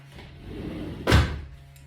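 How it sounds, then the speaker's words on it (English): A door is shut indoors, a single firm thud against a low background hum. "just shut the door"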